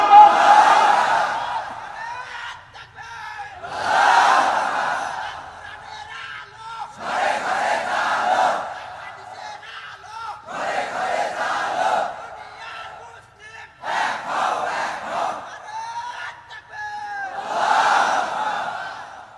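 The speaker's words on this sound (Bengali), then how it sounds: "জোরে তাকবীর দিয়ে বলেন আল্লাহু আকবার" Large crowd at a Bangla religious sermon gathering loudly chanting the takbir in unison, six or so swelling collective shouts in a steady call-and-response rhythm, each followed by a short pause.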